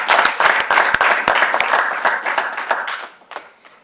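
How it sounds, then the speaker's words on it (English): Audience at a professorial inauguration applauding, loud, dense clapping that stays strong at first, then gradually thins and fades out toward the end. "Ladies and gentlemen, I think another big round of applause for Professor Nwulu."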